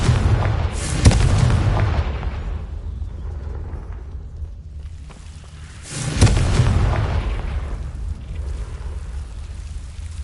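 Confringo blasting spell explosions in a Harry Potter video game: two separate loud, deep booms a few seconds apart, each followed by a long rumbling decay, over a low steady background.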